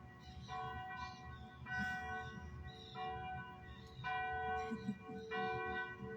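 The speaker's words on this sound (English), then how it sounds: "Do you hear the bells?" Church bells ring out in a steady, repeating pattern of tolling strikes, moderately distant, over a low background rumble.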